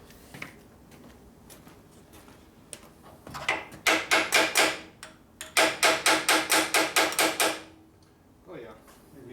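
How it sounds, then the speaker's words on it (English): Repeated hammer blows ring out during a Harley-Davidson Panhead FL/FLH rebuild, coming in two rapid bursts of about five and ten sharp, loud strikes close by, with quiet pauses and faint talk around them. "Hammer."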